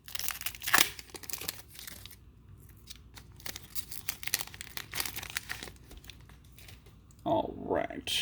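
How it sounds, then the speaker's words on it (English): Digimon Card Game X Record booster pack torn open, with sharp crinkling and tearing of foil wrapper in bursts, a louder rustle near the end, close and moderately loud. "Next up, another X Record pack. Whoop, we're opening it backwards."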